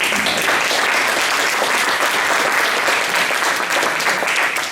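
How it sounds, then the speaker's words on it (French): Sustained audience applause fills a festival hall at a film and television event, steady and loud throughout with no break. "Ça s'applaudit ça"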